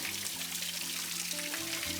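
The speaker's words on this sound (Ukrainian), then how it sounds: "З маленьким водоспадиком." A small waterfall pours in a steady, soft trickling rush, faint and constant beneath a sustained tonal hum that shifts pitch.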